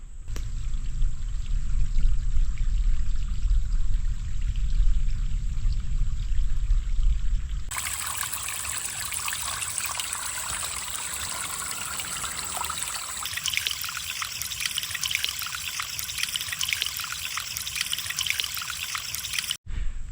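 A small waterfall trickles into a creek beside a humid summer hiking trail. The water makes a steady, continuous pour that turns brighter and more splashy partway through, with no voices.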